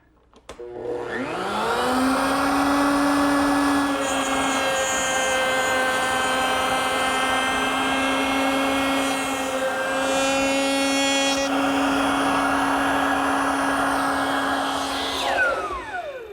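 A router cutting a dovetail joint in a wooden drawer front whines loudly for about fifteen seconds, spinning up sharply, holding a steady high-pitched tone with slight shifts as it feeds through the wood, then winding down.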